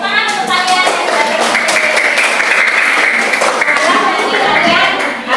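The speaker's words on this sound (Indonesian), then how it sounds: "tepuk tangan untuk kalian" A classroom full of people claps steadily, loud and close, with children's voices chattering through the applause.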